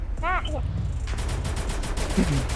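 Gunfire in the Free Fire video game: a burst of rapid shots crackles near the end after a short vocal sound at the start, loud and close over game background noise.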